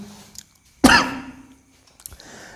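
A single sharp, harsh cough bursts out loud and close, trailing into a short rasp, with near silence before and after.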